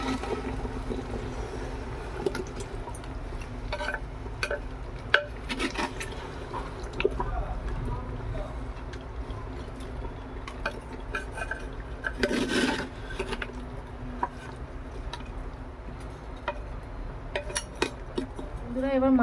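Handi chicken with spices is stirred and scraped in a pot, giving a steady rasping rub with occasional louder scrapes and clinks, moderately close, with a voice speaking intermittently.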